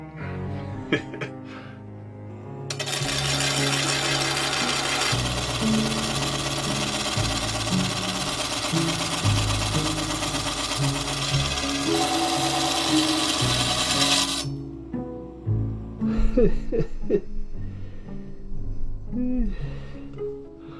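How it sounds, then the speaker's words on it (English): A saw cutting facets into a rough gemstone, giving a steady, loud grinding whine that runs for about twelve seconds, with quieter machine hum and knocks before and after. "We're gonna try and saw these facets in rough instead of grinding them."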